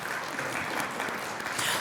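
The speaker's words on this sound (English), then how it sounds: "Please give yourselves a round of applause." Applause fills a candidate town hall, a steady wash of many hands clapping at moderate level throughout the short stretch, slightly swelling near the end.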